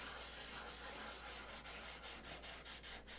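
A Big Tucker 600 floor sander works across a wooden floor, a steady, faint abrasive hiss with rhythmic rubbing pulses toward the end, with no voices.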